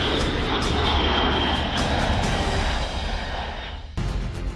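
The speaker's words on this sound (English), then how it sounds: "The C-2 has highly tactical maneuverability in flight." Kawasaki C-2 military transport aircraft flying, a loud roaring jet engine rush that fades slightly, then swells abruptly near the end, with no voices.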